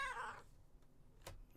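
A pet cat named Carlotta, standing on a desk near the keyboard wires, lets out one close, clear meow at the start, followed by near-silence broken only by a few faint clicks.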